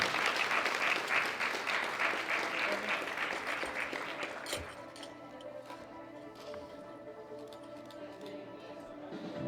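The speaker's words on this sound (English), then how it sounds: "Big round of applause for our three winners." Audience applause for the winners of a sub-junior/junior women's world powerlifting championship, loud and dense for about four and a half seconds, then thinning into scattered claps and hall murmur.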